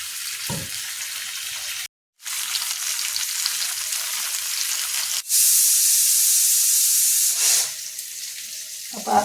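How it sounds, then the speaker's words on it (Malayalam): Mackerel shallow frying in a pan gives a continuous bright sizzle and hiss, briefly cut off and then swelling louder as the fish is turned or moved, with no talking. "അയില മീനൊക്കെ ഒന്ന് വറുത്തെടുക്കാം"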